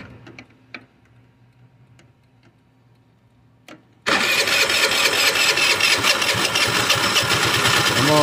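An abandoned scooter's engine is cranked and fires up: a few faint clicks and ticks over near-silence, then the engine abruptly catches at about four seconds and runs loudly and steadily, close by, with a rattly, buzzing idle.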